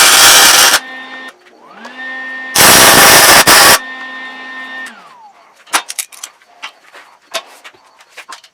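Tack welding a bracket onto a post hole digger, two loud harsh bursts of welding crackle with a rising electronic hum between them, followed by scattered clanks and taps.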